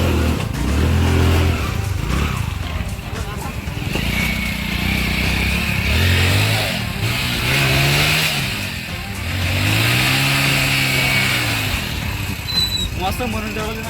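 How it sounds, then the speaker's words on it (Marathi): A vehicle stuck on a muddy off-road track during a monsoon ride, its engine revving loudly in repeated rising and falling surges as it strains, close by, with voices talking over it. "आणि इथे गाडी फसलेली आहे"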